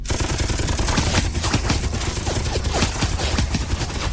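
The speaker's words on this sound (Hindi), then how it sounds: "सभी तैयार, पंक्तियों में खड़े होकर निशाना सा, फायर" Rapid volley of soldiers' gunfire during an attack on a fort, dense overlapping shots crackling loud and continuous throughout.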